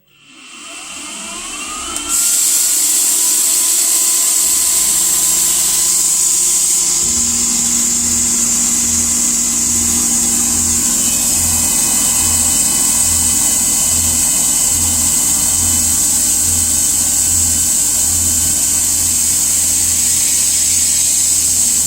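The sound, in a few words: Precision Matthews PM-30MV CNC mill cutting at 2500 RPM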